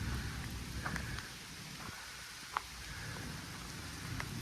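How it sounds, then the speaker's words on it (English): Steady rain falls outdoors in a dense, hissing wash with scattered drops ticking on nearby surfaces and a low rumble beneath, continuous and fairly close throughout. "I could hide from the rain in there"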